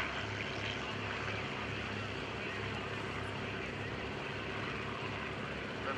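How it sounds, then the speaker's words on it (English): A 1942 Fairchild PT-23 vintage trainer with a round radial engine takes off, its steady engine drone and propeller noise filling the air at a moderate distance, with voices talking faintly underneath. "There goes the first of our airplanes, the Fairchild PT-23. In 1942 vintage. It has a round radial engine."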